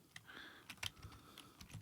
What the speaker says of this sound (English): Want some good keyboard clicks?